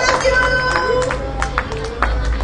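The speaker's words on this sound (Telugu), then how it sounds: "అందరూ ఒకసారి గట్టిగా క్లాప్స్ కొనండి" At a birthday party, an audience claps after a song. Loud, scattered handclaps break through a room where voices and a faint tone linger in the background.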